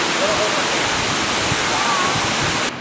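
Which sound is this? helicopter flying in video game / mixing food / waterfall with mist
waterfall with mist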